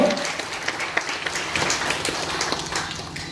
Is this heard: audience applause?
yes